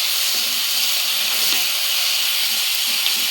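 Ingredients for sambar, including tomatoes, sautéing in a hot pan, giving a steady, close sizzling hiss that holds without a break and has no talking over it.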